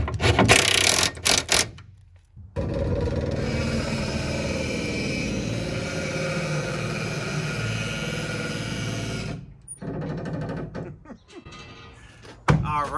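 A 1/4-20 nylock nut is spun onto a bolt during an Airstream chassis and floor rebuild, giving a sustained mechanical whirring for several seconds, framed by a few clunks and knocks before and after.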